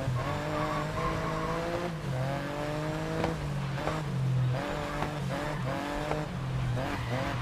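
Open-wheel race cars in GRID Legends roar and rev on a wet track, with repeated tire squeals and skids over a dense, continuous engine din as the pack races.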